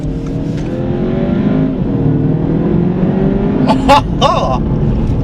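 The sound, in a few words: Audi TT Coupe quattro accelerating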